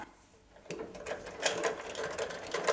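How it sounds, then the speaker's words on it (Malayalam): A sewing machine stitches cloth during a repair test for fabric that fails to feed forward, giving a steady rapid mechanical chatter that starts after a quiet moment and runs close and moderately loud. "ഇനി നമുക്കൊന്ന് സ്റ്റിച്ച് ചെയ്ത് നോക്കാം"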